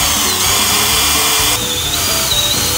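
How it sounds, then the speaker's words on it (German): A power drill whines steadily and loudly, grinding continuously as it drills out a broken bolt on a Hercules Prima GT moped, with a slight shift in pitch partway through. "So, jetzt tun wir bohren."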